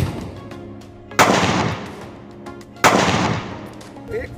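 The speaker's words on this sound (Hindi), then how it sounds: "जो हमारा धमाका है वो कुछ इस प्रकार का रहने वाला है।" Two loud, sharp blasts from a homemade potash (sulfur-potash) gun, spaced about a second and a half apart, each with a short echoing decay, close to the microphone with no voices.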